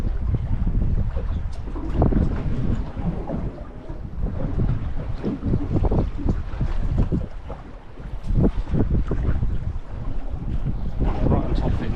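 Strong wind buffets a small dive boat drifting fast over a wreck at sea, a dense, continuous low roar of gusts and microphone wind noise with water slapping underneath, steady throughout the clip.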